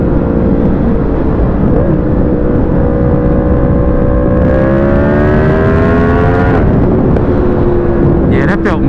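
A 2020 Yamaha MT-10 motorcycle pulls hard in third gear, engine pitch climbing steadily and loudly with wind rush, then dropping off as the throttle closes near the end.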